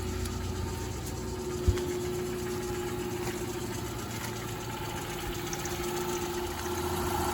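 1995 Dodge Caravan with a 2.5 liter 4-cylinder engine idling steadily at moderate distance, an even low hum with one brief click near the start and no speech.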